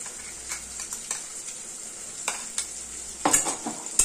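A spice mix of onion, green chili, ginger, garlic, ground cumin, coriander and chili powder fries in a pan for biryani. A soft sizzle runs throughout, with light clicks and taps as it is stirred, growing busier at the end.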